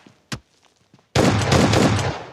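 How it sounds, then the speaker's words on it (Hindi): Gunfire from an S12K shotgun in the PUBG Mobile video game: one sharp single blast, a few faint clicks, then a loud sustained burst of rapid shots with a dense crackling roar. "मैं 2 को ठोक देता हूँ अपनी S12K के साथ। कतई 2 पटाखे मारो"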